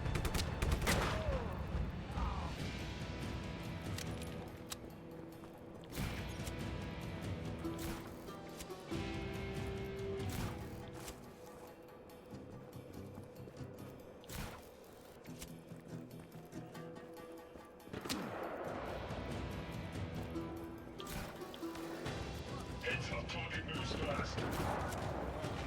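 Bursts of gunfire crackle through a busy, noisy video game battle, repeated shots layered over constant background clatter, with a voice talking over the action.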